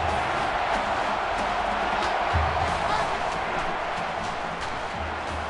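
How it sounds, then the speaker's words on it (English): Simulated stadium crowd in NCAA Football 13, Oregon Ducks vs Oregon State Beavers, a steady dense roar filling the whole stretch with a few low thumps, no voices over it. "So this crowd is making their presence felt."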